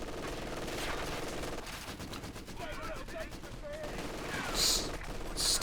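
Machine guns rattle in a Company of Heroes 2 battle, rapid bursts at moderate distance over steady battlefield noise, with a voice talking over the fire.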